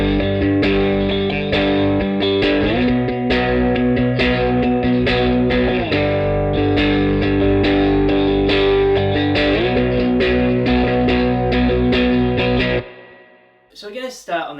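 Distorted electric guitar plays a heavy riff, loud and continuous, with rhythmic power-chord strums and effects for about thirteen seconds before cutting off abruptly, followed by a brief noisy tail.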